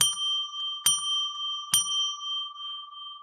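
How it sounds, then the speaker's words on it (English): A small handbell rings three times at an even, unhurried pace, each ding bright and clear, the tone hanging and slowly fading between strikes in an otherwise quiet room. "I'll ring a bell 3 times to declare sacred space."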